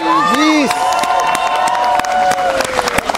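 An audience at a live show claps and cheers for a band, a loud sustained wash of applause with whoops, a voice singing or calling out over it.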